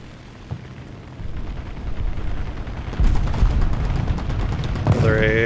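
Anti-aircraft gun fire in the War Thunder game, a rumbling fusillade that builds from quiet to sustained heavy bursts partway through, loud and continuous, with a voice briefly heard near the end.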